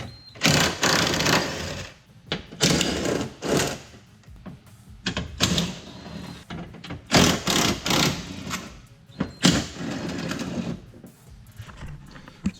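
Bolts being undone on the door of a 1999-2007 Chevy Silverado during a window regulator swap: several close, loud bursts of mechanical whirring separated by short pauses, with no talk.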